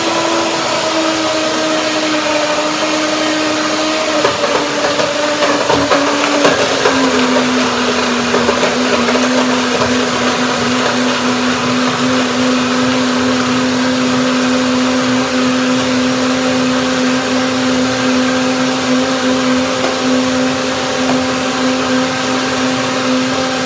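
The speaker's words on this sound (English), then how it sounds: "blending it will of course cool the blender, the smoothie down to what I will like" Blender whirring loudly as it purees frozen cherries, banana and flaxseed into a smoothie, a steady high motor whine with a pitch drop partway through, close and continuous with no talking.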